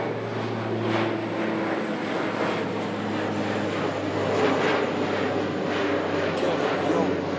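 Airplane flying overhead above a forest, a steady broad engine roar with a low droning hum that holds loud and even throughout, with faint voices in the background.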